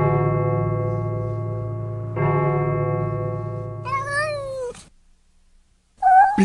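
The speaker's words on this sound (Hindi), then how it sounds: "बिल्ली जैसी चीख" A cat-like scream in a Hindi thriller radio play sounds as a sustained wailing yowl that bends and falls, following a steady droning tone and ending in a sharp, loud cry.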